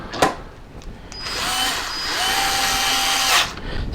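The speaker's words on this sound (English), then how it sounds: "so I'll throw screws back in this and see." A power screwdriver drives screws back into an Atari 5200 controller: a few short clicks, then a sustained whirring buzz that rises in pitch and runs for about two seconds, close and fairly loud.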